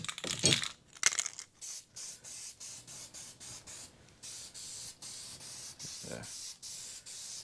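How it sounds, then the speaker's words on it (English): Spray can of weld-through primer coating the back side of mini truck lowrider panels: a string of short, close hissing bursts in steady rhythm, with a voice speaking briefly. "you hit everything on the back side with a little bit of weld through primer."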